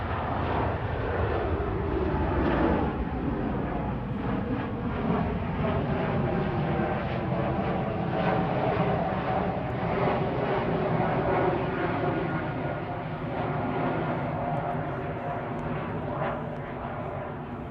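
A KLM airliner departs Manchester Airport at night on runway 23L, its engine roar steady and loud throughout, a broad continuous rush with a faint tonal whine layered inside.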